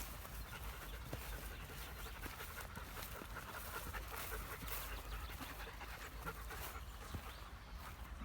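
Quick, breathy panting from a German Shepherd repeats steadily throughout, faint and close, with no voices.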